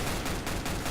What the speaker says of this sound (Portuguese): Olha o cara atirando em mim